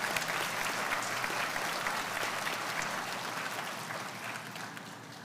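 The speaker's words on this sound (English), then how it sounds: "Let's give them a round of applause for their effort." At a 2024 associate degree graduation ceremony, a seated crowd gives the trustees a steady round of hand-clapping that slowly thins and fades over five seconds.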